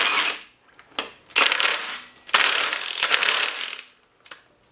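A ratchet wrench snugs down a bolt on an Oldsmobile 384 engine build, heard as several close, loud bursts of rapid clicking separated by short pauses, ending with a single sharp click.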